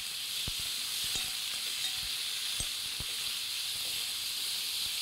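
Onion, green chilli and tomato fry in a pan for karuvadu kulambu, a steady close sizzle and hiss with a few soft clicks of stirring throughout, no voices.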